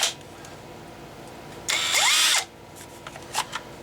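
A King Showden multi tool powered by a Makita battery buzzes briefly for under a second, a loud high motor whir that spins up and winds down, with a few faint clicks and handling noises around it.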